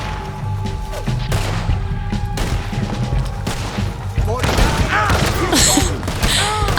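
Rapid gunfire in a Red Dead Redemption II shootout: loud, dense volleys of shots and thuds roll on continuously, growing heavier toward the end, with voices speaking amid the chaos.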